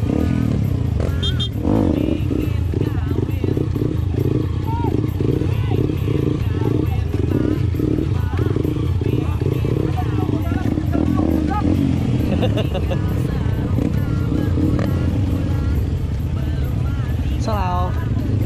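Trail motorcycle engine at Pakansari Stadium running steadily loud and close, with repeated revs rising and falling throughout, under a lively crowd with background chatter.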